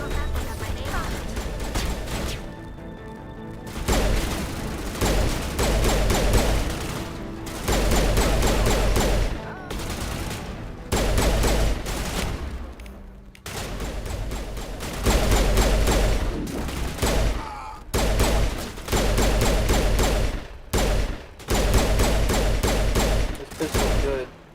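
Rapid pistol fire in the Mass Effect video game comes in loud, dense bursts separated by short pauses, close and continuous, with voices mixed in among the shots.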